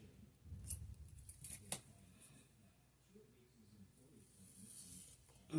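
Scissors cut crochet yarn for an amigurumi project, giving a few faint, crisp snips close by. Soft rustling handling and low, muffled background sound continue quietly around the cuts.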